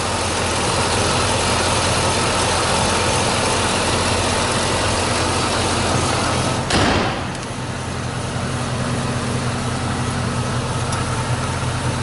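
A 2004 Cadillac Escalade with the 6.0 AWD V8 idles steadily, a loud, even low rumble that continues throughout, broken once by a brief thump partway through.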